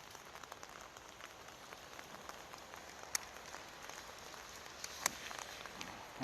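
Rain falls at the seaside in Bang Saen on a wet day. A faint, even patter with occasional sharper drip impacts runs throughout, with no talk.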